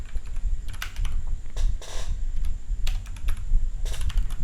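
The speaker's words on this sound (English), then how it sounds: "type in Google Slides" Quick bursts of typing on a computer keyboard, close and crisp, keys clattering in three or four short runs with brief pauses between, no voices.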